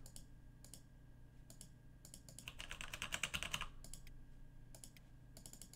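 Typing on a computer keyboard, close clusters of quick key clicks in short bursts with a denser run of taps in the middle, over a low background hum.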